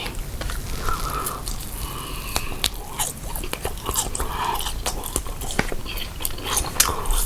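Crisp bites and steady chewing of a spicy Chinese tofu sheet snack, close up with fast crunchy crackles and wet mastication, no talking.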